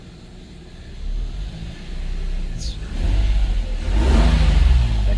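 Toyota Soarer SC300 with a 2JZ-GE engine and W58 five-speed gearbox revving as the car pulls away and accelerates, close and growing louder in surges over about five seconds.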